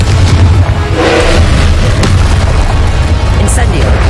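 Confringo blasting spell in Hogwarts Legacy: a loud, rumbling explosion with heavy low booms and crackling debris that sustain for several seconds, plus a few sharper pops.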